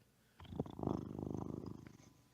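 A pet cat purrs close up, a soft rhythmic rumble that swells in and holds steady before easing off, alone without any talking.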